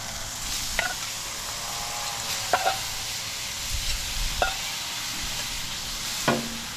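Shrimp frying in a hot pan at a Baja-style campsite in San Felipe, Mexico, giving a steady close sizzle with a few sharp utensil clinks spaced through it.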